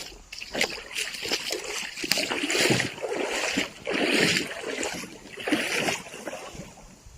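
A hiker splashes across a small creek on the Ozark Trail, with several rhythmic sloshing footsteps in rushing water, fairly close and loud, and no talk.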